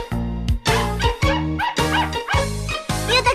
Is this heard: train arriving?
no